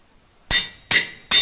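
Three bright, metallic clinks, like hammer strikes ringing on metal, crafting a lumium crossbow in Minecraft, evenly spaced and loud against near silence, each decaying quickly.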